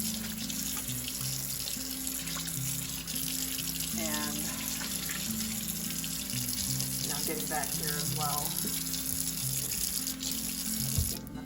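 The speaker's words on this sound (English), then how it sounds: "Getting the faucet rinsed off." A kitchen faucet runs steadily, water splashing as it rinses homemade cleaner off a sink, with a person talking over the continuous flow.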